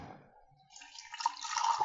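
Statesman Scotch whisky poured from the bottle into a glass, a short hesitant trickle that starts faint and then gurgles more fully and brightly near the end.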